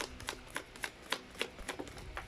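Tarot cards shuffled close up in a quiet room: a series of crisp, evenly spaced riffle snaps and flicks, faint but distinct, with no voices.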